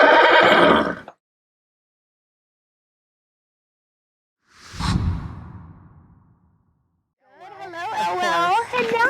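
A horse whinnies loudly in its stall, a high shrill neigh rising and falling, after a short breathy snort, with a person speaking at the start.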